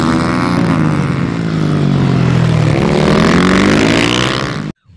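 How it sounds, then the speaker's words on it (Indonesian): A toy motocross motorcycle gives off a loud, buzzing engine sound that whines and revs with a rising and falling pitch, holding steady for several seconds before cutting off abruptly. "ini motor cross"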